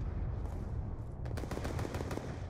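Gunfire in a video game trickshot match played with bots, a dense rattle of rapid shots over a constant loud background of game noise, with no talking heard.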